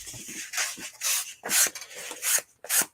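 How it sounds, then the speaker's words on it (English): Sandpaper rubbed over foam in a series of about six short, raspy scratching strokes, close and fairly quiet, with brief pauses between them. "And when you're sanding foam"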